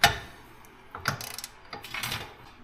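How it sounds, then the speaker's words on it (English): A torque wrench tightens bolts to 44 pounds during a power upgrade on a Polaris Xpedition, giving a few separate ratchet-like clicks and mechanical clunks spaced over a couple of seconds, close by with no talking. "Now I'm going to torque these things. 44 pounds."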